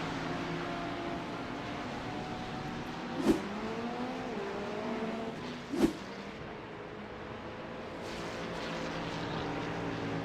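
Race cars in a sim racing game at Spa scream past, engines droning steadily with two sharp whooshing fly-bys and a third fainter pass, loud and close with no talking.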